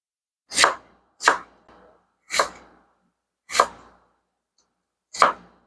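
Knife chopping jicama into small matchsticks on a cutting board, five crisp separate strokes at an uneven pace, close and clear, with no talking.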